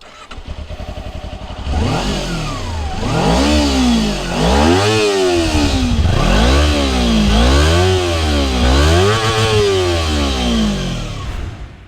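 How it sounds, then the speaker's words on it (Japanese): A lowered Kawasaki Ninja 250 twin-cylinder sport bike idles, then is revved in five or six loud, close throttle blips, each whining up and dropping back in a regular rhythm, with no talking. "エンジンサウンドを聞かせてなかったな。"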